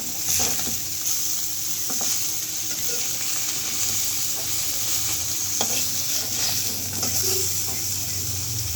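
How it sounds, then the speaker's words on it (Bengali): Fish sizzles steadily in hot oil, with occasional scraping stirs against the pan throughout. "মাছগুলো আমার ভাজা হয়ে গেল।"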